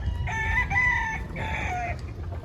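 A rooster crows close by in a few drawn-out bursts, with low clucking and farmyard murmur underneath, in a backyard in Parañaque.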